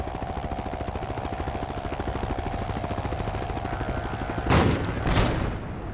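A rapid steady rattle of gunfire aimed at a helicopter in the Project Reality mod for Battlefield 2, running under the thrum of rotor noise and ending in two loud bursts or explosions near the end.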